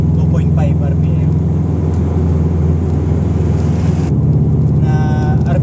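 A tuned Ford Fiesta Mk7 with an ECU remap and headers drops into fourth gear, its engine droning steadily close up before the pitch shifts as revs fall, with someone talking over it throughout.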